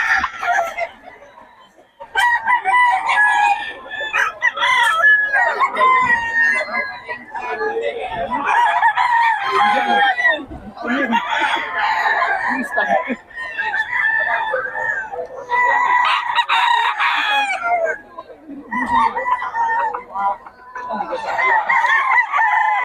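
Several roosters crow loudly over one another while chickens cluck continuously at a poultry market in Bocaue, Philippines, a dense and noisy chorus with brief pauses.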